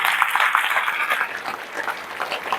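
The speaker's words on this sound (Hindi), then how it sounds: "एक जोरदार ताली होनी चाहिए नए लोगों के लिए।" An audience at a meeting claps loudly for newcomers, a dense, steady round of applause from a crowd that continues throughout without pause.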